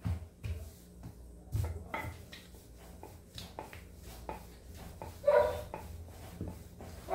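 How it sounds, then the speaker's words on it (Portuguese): A puppy barks in short, irregular bursts, moderately close, with a few sharper yelps among faint household clatter. "o cachorro tá latindo"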